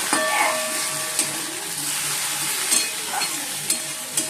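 Okra sizzling and frying steadily in a pan, a continuous close, bright crackle with a few soft stirring scrapes and no talk.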